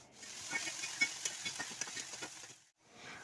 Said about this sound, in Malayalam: ഞാൻ പയറിട്ട് നല്ലപോലെ ഒന്ന് ഇളക്കി കൊടുക്കുന്നുണ്ട്